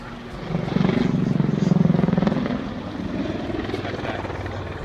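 An Army Air Corps helicopter performing an aerobatic backflip at the Farnborough 2014 airshow: rotor thrum swells loudly, then eases to a steady, slightly quieter drone, with faint voices mixed in.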